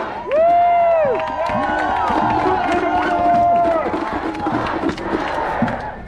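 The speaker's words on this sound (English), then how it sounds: "Give them a round of applause." Protest crowd at a Black Lives Matter march in Eugene, Oregon, cheering loudly with whoops and rising shouts, the noise swelling at once and holding steady throughout, with scattered clapping mixed in.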